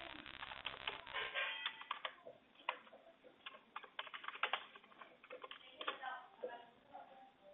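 Rapid, uneven keystrokes on a computer keyboard as a username is typed in while setting up Minecraft on a PC, close and clear with no voice over it.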